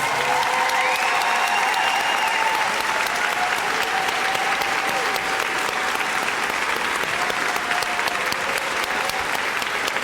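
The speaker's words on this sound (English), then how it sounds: "Give them a big round of applause." A big audience at a kindergarten promotion ceremony gives long, loud, sustained applause, with children's voices and cheers rising through the clapping.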